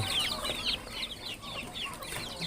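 Chickens cluck in a rural yard during early-morning feeding, with ducks kept nearby. Busy overlapping clucks and chattering calls come close and continuous, in irregular bursts.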